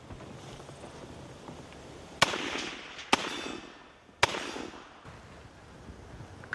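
Three sharp, loud M1 carbine rifle shots fired at an irregular pace over steady background noise, with a fourth fainter report near the end.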